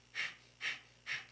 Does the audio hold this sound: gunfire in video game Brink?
no